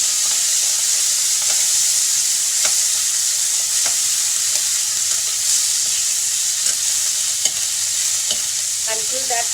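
Food tossed into a very hot, nearly smoking pan of bacon fat sizzles loudly and continuously, with faint scraping stirs and small pops over the dense frying hiss, no voices.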